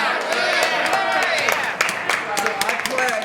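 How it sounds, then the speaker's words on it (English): A crowd at a homelessness campaign press conference in Albany breaks into cheering, whoops and applause, loud and close, with overlapping shouting voices throughout. "Can we hear a round of applause?"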